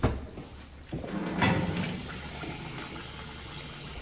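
Running water rinses parboiled rice for Efik coconut rice, a steady close gush pouring and swirling with a brief surge near the middle, no voices.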